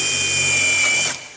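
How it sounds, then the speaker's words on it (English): A power drill bores a hole in a wooden drawer side panel to attach a drawer guide, a steady loud high whine that holds evenly and then winds down as the bit stops. "When you drill the hole, it should stay centered."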